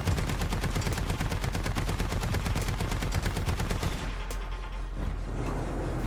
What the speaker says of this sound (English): things it does have going for it is a very high-powered machine gun